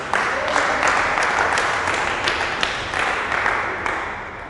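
Church congregation at a Swahili-language sermon applauding and cheering for Jesus, a steady crowd of clapping and shouts, close and fairly loud throughout.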